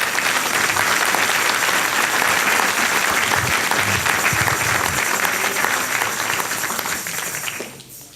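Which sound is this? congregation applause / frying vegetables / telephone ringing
congregation applause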